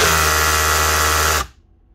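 Makita drill running its impact mechanism close up, a loud, steady high-pitched buzzing whine that lasts over a second and then cuts off abruptly into near silence.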